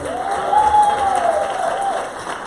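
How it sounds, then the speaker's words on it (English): Audience at a monthly community meeting applauding a councilman and his staff, a steady wash of clapping from a crowd with a voice calling out over it. "Could we give our councilman and his staff a round of applause?"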